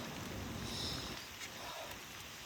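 Rain pattering steadily through a wet, moss-covered forest in spring, a soft continuous hiss of drops on leaves and ground with no voices, faint and even throughout.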